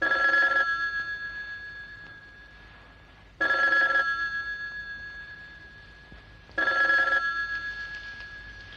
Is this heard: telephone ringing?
yes